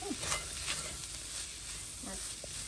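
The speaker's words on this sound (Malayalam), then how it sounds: "ഒരു ടീസ്പൂൺ മുളക് പൊടി ഇട്ട് അതെല്ലാം കൂടെ നമുക്കൊന്ന് നന്നായിട്ട് ഇളക്കി കൊടുക്കാം" Clams sizzle in a frying pan as they are stirred with chili powder, a soft steady hiss with occasional scraping strokes and faint voice-like sounds.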